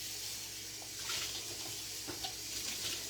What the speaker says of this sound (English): Let me just rinse this bowl out.